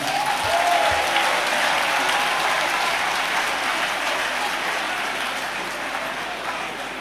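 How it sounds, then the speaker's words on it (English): A conference audience of accountants applauding a presidential candidate: dense, sustained clapping that fills the hall, holding steady and easing slightly toward the end. "Can we give him another round of applause?"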